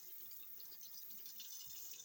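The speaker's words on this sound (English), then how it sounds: "Cold water, people, cold water." Cold water runs from a kitchen tap while Jamaican chicken foot soup is being prepared, a faint continuous hiss and splash with a few soft droplet sounds and no talking.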